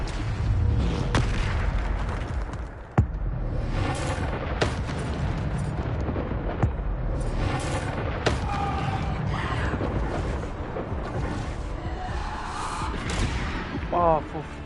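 Bombarda spell explosions from Hogwarts Legacy go off as repeated sharp booms and cracks over a dense stretch of game noise. Several impacts stand out loud and sudden among continuous rumble and effects.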